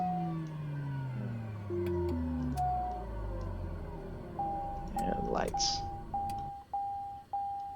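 Cockpit alarm tones in a TBM aircraft in the video game MSFS2020: repeated short electronic beeps, steady and evenly spaced, sounding over a falling tone and a steady engine hum, with a brief spoken word near the start.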